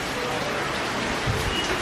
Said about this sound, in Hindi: अभी सुबह से बारिश हो रही है और बीच में रुक गया था और फिर से बारिश हो रही है अभी